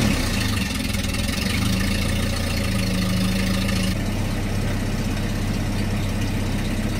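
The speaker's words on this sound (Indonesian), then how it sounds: "lalu hidupkan mesin mobilnya." A Toyota Kijang Kapsul LGX engine idles steadily and close by, a continuous low rumble with a constant hum throughout and no talk over it.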